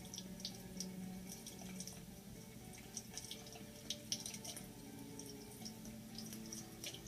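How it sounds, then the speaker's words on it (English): Tap water runs steadily over a screen-printing template while it is gently washed back and forth to rinse off emulsion, giving a soft, continuous splashing flow with scattered small drips, quiet and close, and no talking. "we want to put our template so that the water's running right in the middle of it, not on top of our image"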